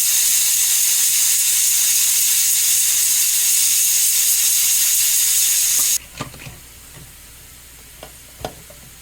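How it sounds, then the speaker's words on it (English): Pressure cooker holding cooked beef being depressurized, loud continuous steam hiss that stops abruptly after about six seconds, followed by a few faint clicks and knocks from the lid. "so we will depressurize it, and we need to make sure that it's completely depressurized before opening the cooker"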